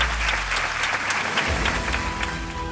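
Audience applause at the grand finale of a singing reality show in Indore, a dense, steady wash of clapping from a sizable crowd, fairly close and full, holding evenly for a few seconds with no one speaking.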